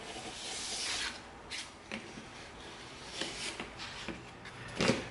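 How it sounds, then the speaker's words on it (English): A box cutter slicing along EVA foam for a shield build, with scattered scraping, rasping strokes at close range, some louder bursts, and no talk over them. "we're going to do all the outside cuts with our box cutter"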